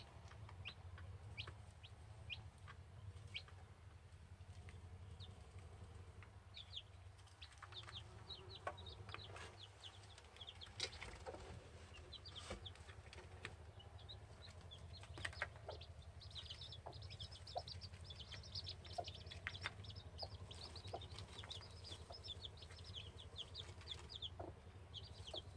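A mother hen clucks softly and steadily at close range, calling her nine small chicks, with scattered high peeps and a constant low hum in the background.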